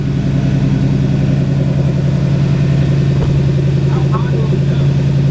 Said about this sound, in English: So that's the air compressor for the bags.